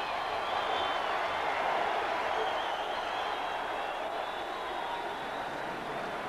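A rugby crowd in 1995 cheers and applauds a try, a steady, distant roar of clapping and voices sustained evenly throughout.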